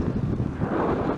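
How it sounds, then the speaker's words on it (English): Wind buffets a foam-covered microphone outdoors on a sunny day while out riding recumbent bikes, a steady low rumbling roar that fills the short moment with no gaps. "the wind is definitely gusting again"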